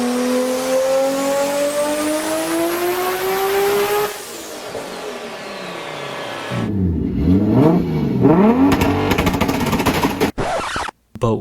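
A Toyota 2JZ engine in a Mark IV Supra revs loudly, its pitch climbing steadily and then dropping away, followed by a run of sharp rising and falling revs close by.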